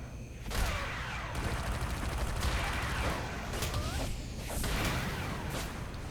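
Rapid automatic fire from an auto turret in the video game City of Heroes, a dense continuous barrage with whooshing bursts and mechanical clatter running steadily through the whole stretch.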